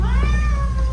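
A cat in a cat cafe gives a single drawn-out meow, loud and close, with a slight rise and fall in pitch over a low background hum.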